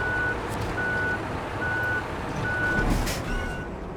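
A Kirovets K7 tractor in SnowRunner sounds steady evenly spaced reversing beeps over a low diesel engine drone, loud and continuous.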